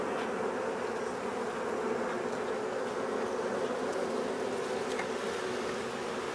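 A honeybee colony being removed: a dense, steady swarm buzz fills the space continuously at close range, loud and unbroken, with no voices.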